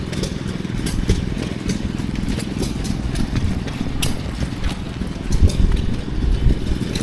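Vintage stationary engines run at the Newark Vintage Show, a steady mid-range mechanical chugging and clatter with sharp ticks over a busy outdoor background, fairly close and continuous.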